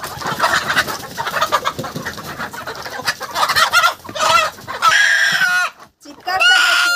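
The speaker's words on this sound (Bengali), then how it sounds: "মুরগিগুলো দেখুন" Small deshi village chickens being chased and caught squawk and cluck amid scuffling and speech, rising to loud, shrill distressed cries toward the end.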